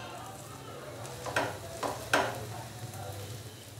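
Okra omelette with egg cooking in a pan over a medium-low flame, a soft steady sizzle with a few brief scraping stirs from a utensil, fairly quiet and close.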